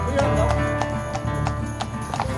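Hooves clip-clop in a steady rhythm at Appleby Horse Fair, a traveller gathering, with several sharp hoof strikes standing out over a busy outdoor background.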